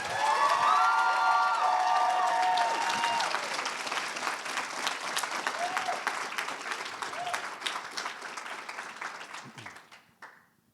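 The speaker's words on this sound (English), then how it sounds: "So please give them another round of applause." Sustained audience applause at the #CanadaWeWant National Showcase youth event, dense clapping mixed with cheers and a few whoops, loud at first and gradually thinning before dying out near the end.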